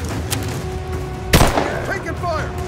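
A single sharp pistol shot from Rise of the Tomb Raider, loud and close, cracking out midway through a stretch of game ambience with faint chirping sounds after.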